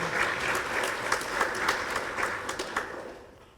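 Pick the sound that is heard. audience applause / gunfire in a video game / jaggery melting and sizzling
audience applause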